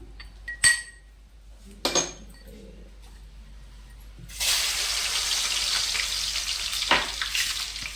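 Crushed garlic and cumin hit hot oil in a pan and break into a steady, bright sizzle that runs on alone, after a few sharp clinks of utensils against cookware.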